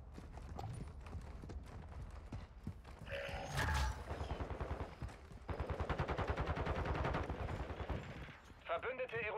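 Rapid bursts of Call of Duty: Modern Warfare II gunfire, loud and close, with repeated shot clusters and a brief explosion-like blast, over game effects.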